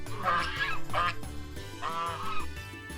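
Several loud, nasal honks and quacks from ducks come in quick bursts, close by, over a low background hum, in Valladolid, Yucatan, Mexico.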